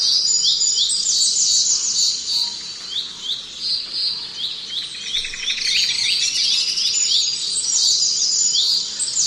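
Dense bird song from a website plays continuously, with rapid high chirps and trills layered over a steady low background hum, loud and close throughout.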